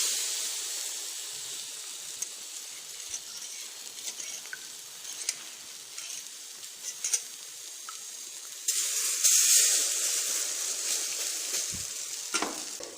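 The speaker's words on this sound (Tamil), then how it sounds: "இதில் ஒரு ரொட்டி துண்டாக போட்டு இப்படி நனைச்சி இது மாதிரி நனைச்சிட்டு கல்லில் வச்சுக்கோங்க" Bread slices soaked in egg and milk sizzle on a hot griddle, a soft steady frying crackle with scattered pops, swelling into a louder, brighter hiss toward the end.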